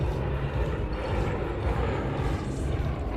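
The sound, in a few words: Yak aircraft engines during airshow formation display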